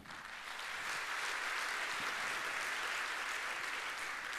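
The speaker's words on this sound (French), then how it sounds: "Je vous demande de l'applaudir" Steady applause from an evening audience at the Algiers Opera house during an anniversary celebration, a dense wash of many hands clapping that swells in the first second and then holds loud and even throughout.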